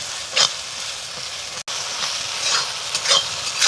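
Ginger, cumin and chili pastes fry and get stirred in a hot pan, giving a steady close sizzle with a few brighter bursts as the spoon moves through. No voices.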